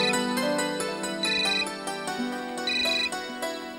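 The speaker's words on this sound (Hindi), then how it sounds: "फोन बज रहा है" A mobile phone ringtone plays a bright, repeating electronic melody with steady rhythmic notes, loud and close, with no talk over it.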